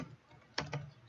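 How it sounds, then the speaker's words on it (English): Short burst of typing on a computer keyboard, a few close, quiet key clicks at an irregular pace. "In the target box, we're going to type in"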